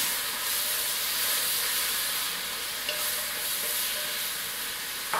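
Three medium heirloom tomatoes sizzle steadily in a hot pan as they are stirred, a continuous bright frying hiss with soft scraping, close and even throughout with no talk.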